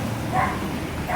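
Dogs bark in a residential neighborhood in Valencia, Philippines, two short muffled barks at a distance heard over steady outdoor background noise.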